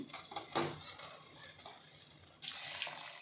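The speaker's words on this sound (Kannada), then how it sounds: "ನಾಲ್ಕು ಗ್ಲಾಸ್ ನೀರು ಸೇರಿಸ್ತಾ ಇದ್ದೀನಿ" Water poured from a glass into rice in a cooking pot for soya chunk pulao, four glasses to two of rice: close, splashy pouring in bursts with a louder gush near the end, no talking.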